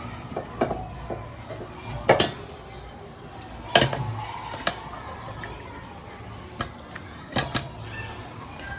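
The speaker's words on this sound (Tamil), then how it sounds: "நம்ம எல்லாத்தையும் மிக்ஸி ஜார்ல சேர்த்துக்கலாம்" Cooked onion, tomato and coriander are spooned into a mixer jar for coriander chutney, giving scattered light clinks and taps of metal against the jar over a quiet kitchen background.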